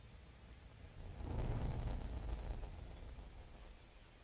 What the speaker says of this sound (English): Is that rain? Like, I wouldn't trust this rain either.